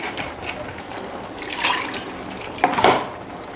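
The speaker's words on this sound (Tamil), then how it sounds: "இப்போ புளி ஊற்றிடலாம்." Tamarind water, a lemon-sized lump of tamarind blended in a mixer, poured into a cooking pot of half-cooked vegetables, a soft splashing liquid pour with a brief louder gush near the end.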